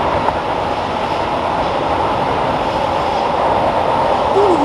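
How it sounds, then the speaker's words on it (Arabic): A heavy, nearly empty freight train about a mile long rolls past in an industrial area on the outskirts of a city, a loud continuous rumble and rattle of rail cars with a brief wheel squeal near the end. "هذا قطار بضائع ثقيل، لا يحمل الكثير من البضائع."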